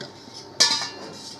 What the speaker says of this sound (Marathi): आता आपण कढई ठेवली आहे गॅसवर